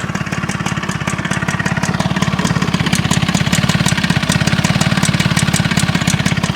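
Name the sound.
lawn mower engine running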